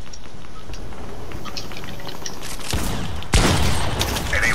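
Rapid video game gunfire crackles continuously with a louder burst near the end, loud and close, with no talking over it.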